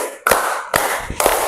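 Students in a classroom ice-breaker clap in unison, giving loud, quick bursts of many hands in close succession with a short room echo after each one.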